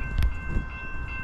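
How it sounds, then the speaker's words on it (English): Military freight train rolling past on a Conrail line, a low rumbling roar of rail cars close by with a brief louder swell early on and a steady high whine above it. "Quite an awesome military train just went by."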